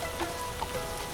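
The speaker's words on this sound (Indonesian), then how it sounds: "hujan mulai turun" Rain falls steadily on a surface, an even, dense patter with a few scattered louder drops and no voices.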